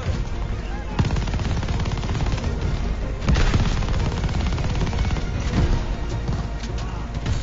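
Dense, continuous automatic gunfire in the Call of Duty: Vanguard campaign, rapid loud bursts overlapping throughout with heavier impacts mixed in, intense and close.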